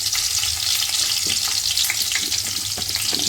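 Green chillies frying in a pan, a dense continuous hiss and crackle of hot oil at close range, steady and fairly loud throughout with faint stirring scrapes and no speech.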